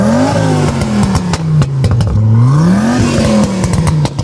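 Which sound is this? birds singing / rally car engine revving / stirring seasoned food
rally car engine revving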